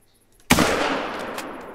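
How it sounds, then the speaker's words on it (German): A single sharp gunshot rings out during a hunting session in the video game theHunter: Call of the Wild, a loud crack followed by a long, rolling echo that fades slowly. "Oh, ich hab einen Schuss gehört."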